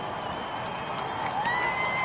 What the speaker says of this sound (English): So we get a little applause from the crowd